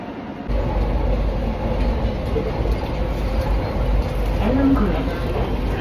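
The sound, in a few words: riding a Kochi metro train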